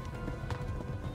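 Horse hooves clip-clopping at a run in the medieval video game Kingdom Come: Deliverance, a steady close rhythm of hoofbeats filling the short moment without speech.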